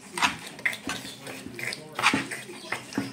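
Rice is stirred with sesame oil in a bowl, giving soft scraping and clinking of a utensil against the bowl in irregular strokes, close by, with faint background noise.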